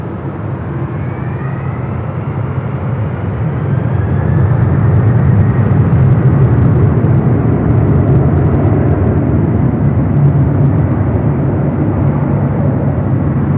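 A Delta 777-300ER heavy takes off from runway 24 left at LAX, its low engine rumble building loud after a few seconds and staying strong, with a rising whine faintly traced above.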